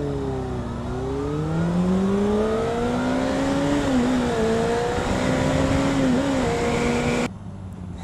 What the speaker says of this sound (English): Little drag race for you.